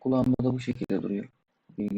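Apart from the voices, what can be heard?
No everyday noises stand out.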